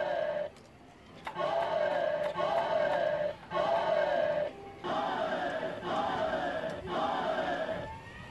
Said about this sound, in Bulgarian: А публиката от коридата в Севиля приветства Тореадора,